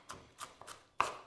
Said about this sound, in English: We're gonna keep cutting our onion.